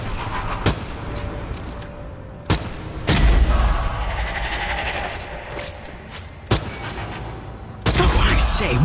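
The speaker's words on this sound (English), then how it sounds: "Oh, I say, what wonderful shooting!" Gunfire from the video game Strange Brigade: loud bursts and sharp shots that come and go over continuous game noise, with several strong blasts spread through the stretch and no talking.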